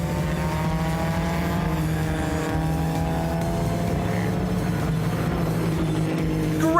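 A vintage Alfa Giulietta TI and a Renault Dauphine race, their engines droning steadily with rising and falling revs, fairly close and continuous without any voices.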